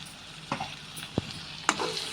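Chicken fry with cinnamon masala powder sizzles softly in a pan while a spoon stirs it, giving three or four sharp scraping clicks over a low, steady frying hiss.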